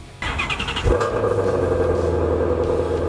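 A combustion-engine car cold start: a brief cranking stutter, then the engine catches with a jump in loudness and settles into a steady, deep idle rumble, close by.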